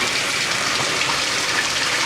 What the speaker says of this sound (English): Now this is a warm rinse